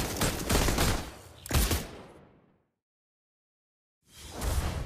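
A video game sheriff character fires a rapid volley of loud gunshots, which cuts to silence for about a second and a half before another loud burst of fire.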